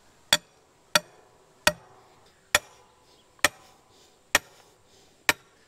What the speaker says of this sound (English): I'll have to use a sledgehammer, see if I can get these in through the gravel.